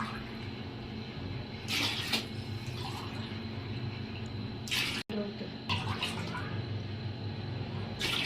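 Water is poured into a pot for Chettinad Dindigul chicken biryani, coming in short splashing bursts with pauses between them, over a low kitchen background.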